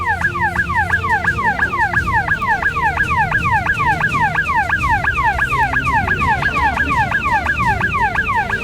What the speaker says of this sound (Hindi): अगर इन सेंसर्स को जैसे हम पार करेंगे, खास तरीके का सायरन बजेगा